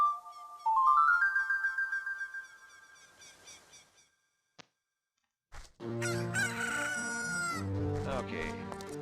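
Rooster crowing in Zelda: Ocarina of Time on 3DS as a hatched egg becomes a chick during a trading sequence, a rising game-style crow followed by a bright jingle after a brief pause.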